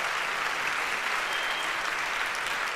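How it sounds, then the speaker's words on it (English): A crowd at a talk breaks into a short burst of steady, even applause, thick and continuous throughout. "We'll give her a round of applause for taking care of that."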